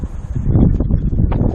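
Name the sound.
wind blowing outdoors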